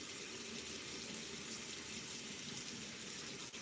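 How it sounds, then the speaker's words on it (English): Water running steadily from a tap into a sink, a constant soft hiss and splash at low level with no break and no talk over it. "I apologize that you can hear the water running"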